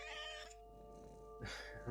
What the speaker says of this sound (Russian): Кошки эти.